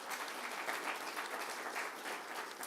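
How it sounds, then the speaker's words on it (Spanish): Steady applause from a church congregation, a dense even wash of clapping hands filling the sanctuary without break, with no voices rising above it. "Denle un aplauso a Jesús"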